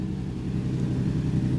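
A 2022 Yamaha R7 twin fitted with a Titan GP2 full exhaust system, its engine rumbling loud and deep with a steady throbbing pulse close by.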